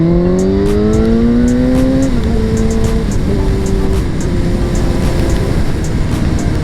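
A 1000cc sport motorcycle accelerates hard, its engine note climbing through a gear and then holding a high steady whine with a brief shift, loud and close over constant wind rush.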